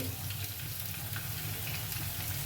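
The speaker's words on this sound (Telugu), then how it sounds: "ఇప్పుడు జీలకర్ర మెంతులు ఆవాలు కొంచెం వాము వేస్తున్నాను" Cumin, fenugreek, mustard seeds and ajwain sizzle in hot tempering oil for a spinach dal, a steady close crackling hiss with faint popping throughout.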